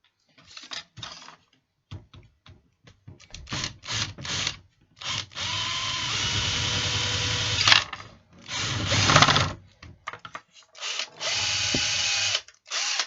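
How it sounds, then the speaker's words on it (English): A power drill with a screwdriver bit whirs in repeated bursts into an S65 smoke detector, some short and some sustained for a few seconds, close and loud with brief pauses between. "you need to use your drill."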